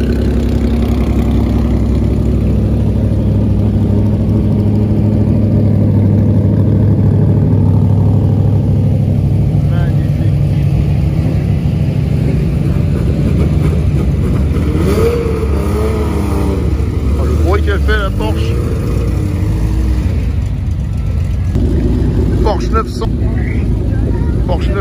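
Classic rally cars at the Tour Auto, including a 3.0 CSL, idle in a steady low engine rumble that holds for the whole stretch, with occasional blips. Voices talk nearby over the running engines.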